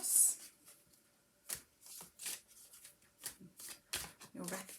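A deck of cards being shuffled by hand, several soft riffling and sliding bursts close up, fairly quiet.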